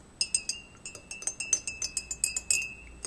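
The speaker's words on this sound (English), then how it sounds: "I'm going to stir this." A spoon clinks repeatedly against a glass while stirring saffron, cardamom and rosewater herbal tea, a quick irregular series of bright chimes, close and clear.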